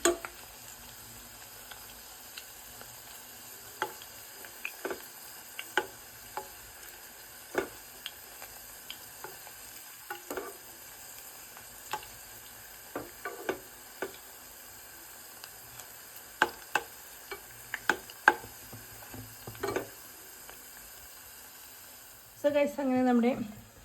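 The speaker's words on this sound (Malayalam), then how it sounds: "നല്ല ക്രിസ്പി ആവുന്നവരെ വരെ ഫ്രൈ ചെയ്തെടുക്കാം" Cabbage pakoda deep frying in hot oil until crispy, a steady close sizzle with scattered pops and crackles that runs throughout, and some stirring clatter near the end.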